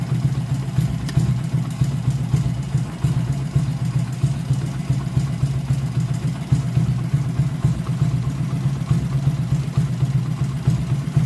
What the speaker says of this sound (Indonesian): tanpa aki motor tetap hidup ya teman-teman